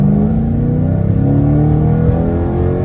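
Catless exhaust on a Dodge Challenger R/T revving hard, a loud, close, continuous burbling roar with rising and falling pitch and no talk.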